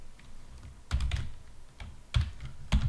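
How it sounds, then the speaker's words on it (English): Quiet clusters of keystrokes on a computer keyboard come in short bursts separated by brief pauses, close and soft with no voices. "I have to type that."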